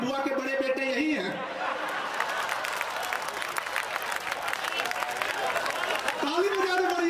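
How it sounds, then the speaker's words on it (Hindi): A crowd at a Hindi comedy poetry show applauds steadily for several seconds, with laughter and scattered voices mixed in; a person's voice briefly rises over the clapping near the start and end. "ताली बजाओ"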